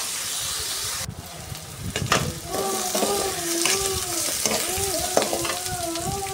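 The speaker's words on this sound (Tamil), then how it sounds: "ஒரு 6 வெங்காயத்தை சேர்த்து நல்லா வதக்கணும்." Onions and garlic sautéing in a pan for a Tamil onion-tomato thokku, a steady close sizzle and frying hiss with stirring scrapes throughout, and a voice talking briefly.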